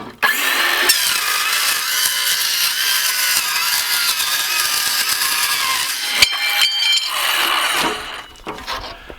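A circular saw whines steadily as it cuts through 1/8 inch aluminum diamond plate, a loud continuous metallic scream lasting several seconds before the blade spins down and a few clanks follow.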